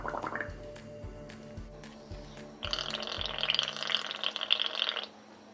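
Bubbles blown through a straw into a paint and soap mixture give a close, bubbly gurgle, with several short pulses at first and then a steady frothy burble lasting a few seconds before it stops.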